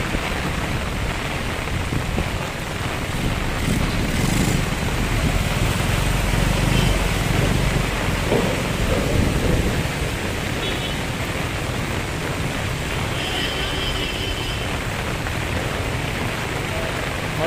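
Heavy rain pounding down amid strong wind during a flood at Manila Bay, a loud, steady broadband roar of downpour and gusts filling the whole stretch without letup.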